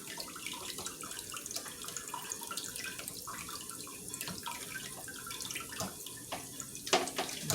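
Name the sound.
pork neckbones being washed in lukewarm water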